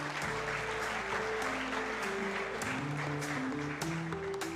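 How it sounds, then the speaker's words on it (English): Audience at a squash championship in Pakistan applauds steadily throughout, a dense, even clapping from a crowd, with music in the background. "Can we have a big round of applause for the gentlemen?"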